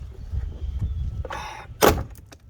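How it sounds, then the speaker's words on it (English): Plastic retaining clips crack and pop as a 2012 Dodge Charger interior door panel is pried loose by hand, with soft scraping and shuffling first, then a sharp snap near the end. "And kind of ever so gently rip this door off."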